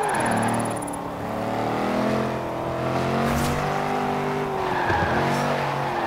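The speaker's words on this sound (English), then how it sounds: "Hook it in, flick the back end out, ride the handbrake all the way through the flags." A Range Rover drifts under handbrake in Forza Horizon 4, its tires squealing in long wavering skids over a steady engine drone, the screech swelling and easing through the slide with no talking.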